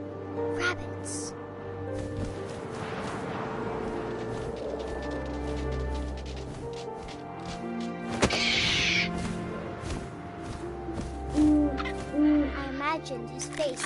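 An owl hoots in the video game What Remains of Edith Finch, low hoots sounding amid wind and game ambience, with a narrating voice talking over parts of it.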